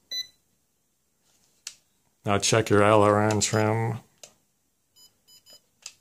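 Short electronic beeps from a Hubsan X4 H107L quadcopter transmitter as a trim is set back to center, heard as a few quick chirps after someone speaks.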